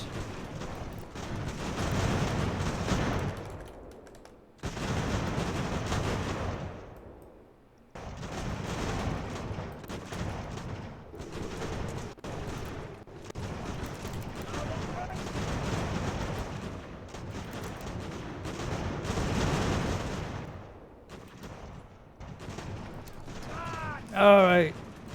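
Video game artillery and musket fire boom around a fort during a Revolutionary War battle at Saratoga, heavy and continuous with short gaps, while a voice talks over the din.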